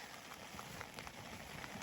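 Steady rain patters across a surface in the forest, a soft, continuous hiss with scattered drops, fairly faint and with no talking.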